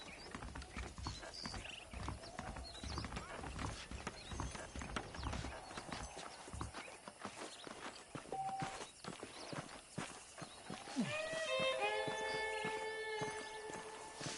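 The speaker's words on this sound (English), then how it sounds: "let's see if you can still ride a horse" Steady clip-clop of horse hooves on hard ground in Red Dead Redemption, a continuous rhythmic trot, with a brief whinny and musical tones near the end.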